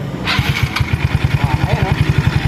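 Noisy Yamaha Mio Sporty scooter engine running close by with a rapid, steady pulsing beat, said to have a knocking fault in the head area, with people talking over it.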